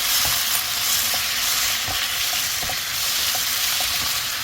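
Sliced garlic stir-fries with squid and radish in a pan, a loud, close, continuous sizzle broken by soft taps and clicks as the pieces are stirred and tossed.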